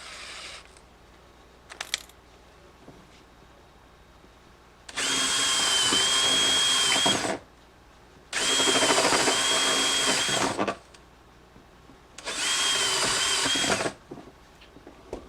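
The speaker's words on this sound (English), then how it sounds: "Now for the 3-hole, we use an 1 1/8 step bit." A power drill with a 1 1/8 inch step bit bores holes in a metal power box in three loud whining bursts of about two to three seconds each, separated by pauses with faint clicks and handling noises.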